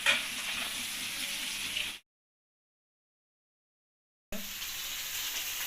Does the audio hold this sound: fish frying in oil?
yes